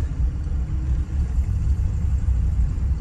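A 1961 Chevrolet Impala V8 cruising in second gear at low speed gives a steady, deep engine rumble from inside the car, even and unbroken throughout with no voices.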